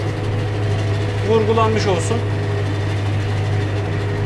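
A tractor engine hums steadily from inside the cab, a low constant drone with a tonal whine, under a voice speaking briefly.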